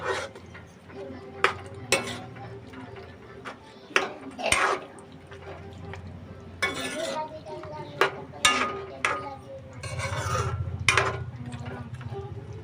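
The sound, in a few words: stirring mutton curry in a pot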